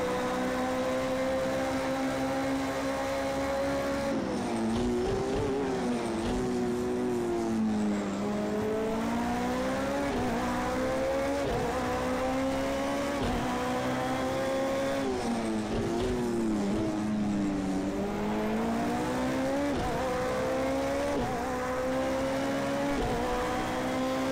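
GTE, GT3 and LMP2 race car engines in Project CARS 2 at Daytona roar together in a close pack, loud and continuous, with rising and falling pitch as the cars accelerate, shift and brake through corners.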